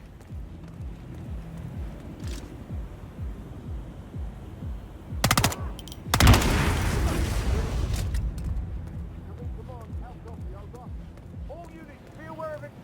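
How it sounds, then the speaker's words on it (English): Explosions in the video game Hitman 3 erupt as two sharp, loud bursts followed by a sustained rumbling roar that fades slowly beneath background game noise and faint electronic chirps. "All units, be aware of explosions in the area."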